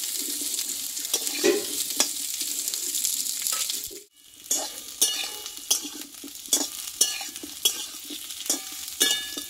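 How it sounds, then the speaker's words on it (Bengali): Cut vegetable stems and potato pieces sauté together in hot oil for a vegetarian pointed gourd dish, a steady loud sizzle broken by rhythmic stirring scrapes, with a brief pause midway before the stirring resumes. "কেটে রাখা ডাঁটা আলু আমি একসঙ্গে কষিয়ে নেব।"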